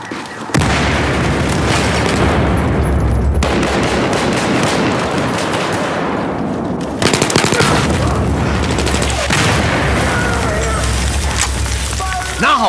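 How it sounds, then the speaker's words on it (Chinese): Grenade blasts and sustained gunfire fill a close-quarters hallway fight in Battlefield 4, loud and dense throughout with several heavy booms, while players talk over the din. "手雷出"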